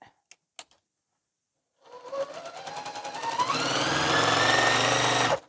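A sewing machine stitches a nested quilt seam: a few faint clicks, then the motor starts and runs steadily, its whine rising in pitch as it speeds up, loud and close until it stops abruptly.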